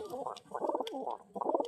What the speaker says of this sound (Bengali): এই হচ্ছে আর এক পিস কবুতর, নর কবুতর